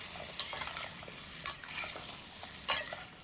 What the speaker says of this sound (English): In a heated pan with 2 tablespoons of cooking oil, sear the potato and the carrots.